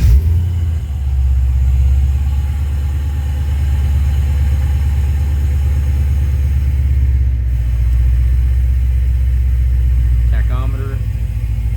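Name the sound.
1971 Chevrolet Nova engine starting and idling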